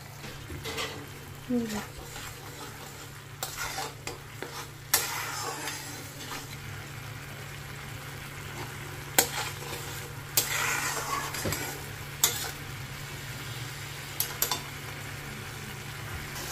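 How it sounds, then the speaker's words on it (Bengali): Yogurt is stirred into capsicum paste masala in a pan, with a steady low sizzle and occasional scrapes and knocks of the spoon against the pan, close up under someone speaking. "এবার এতে দইটা আমি মিক্স করে দিচ্ছি।"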